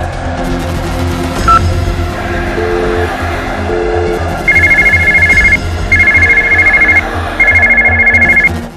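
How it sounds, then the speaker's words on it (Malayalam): An incoming call sets off a phone ringtone: an electronic melody at first, then loud, evenly spaced bursts of a bright two-tone ring repeating close by, with no voices. "സംസ്ഥാന പോലീസ് മേധാവി ലോക്നാഥ് ബെഹ്റയുടെ നമ്പറിൽ നിന്ന് വിളി വരണു"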